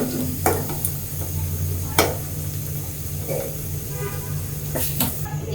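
Onions sizzle and fry steadily in hot oil for an egg biryani, with a few sharp spatula scrapes against the pan standing out over the constant hiss.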